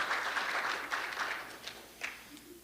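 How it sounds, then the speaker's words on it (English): Brief, fairly quiet applause from a congregation during a church annual meeting, scattered clapping that thins out within a few seconds. "Yes, please, round of applause."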